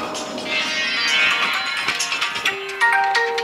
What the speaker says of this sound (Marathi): अरे फोन वाजतोय का तिथं?